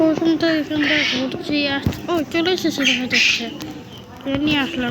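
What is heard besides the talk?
bird calls in a video game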